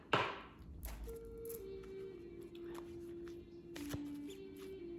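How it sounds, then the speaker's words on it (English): A deck of tarot cards is shuffled and cut by hand, a burst of riffling at the start followed by scattered soft taps and flicks, quiet and close with faint background hum. "I'm going to shuffle and just cut the cards one time."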